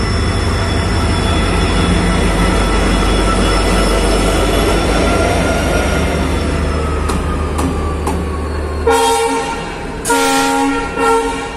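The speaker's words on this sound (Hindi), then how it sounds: "ये WDP 4D लोकोमोटिव जॉइंट होगा, जो कि हमें अजमेर से और अहमदाबाद तक लेके जाएगा" WDP 4D diesel locomotive at an Indian railway station, a loud close engine rumble and rolling train noise, then sharp screeching and clanking toward the end.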